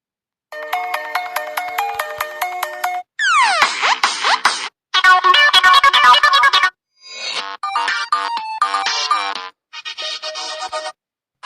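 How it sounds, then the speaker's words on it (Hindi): Several different phone ringtones play back to back, each a loud electronic melody of rapid repeating notes, separated by brief gaps of silence. "इस तरह का रिंगटोन देखिए"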